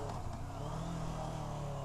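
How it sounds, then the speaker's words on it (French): A car engine revs briefly as the driver drops a gear entering a hairpin, a fairly faint, steady mid-pitched drone with a slight rise in tone. "J'arrive dans l'épingle en face, je tombe un rapport."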